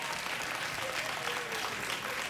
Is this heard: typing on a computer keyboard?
no